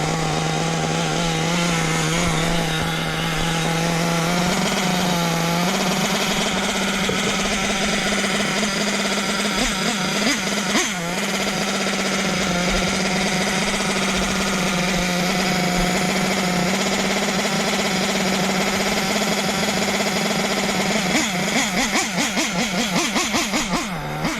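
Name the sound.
small two-stroke engine idling after idle screw adjustment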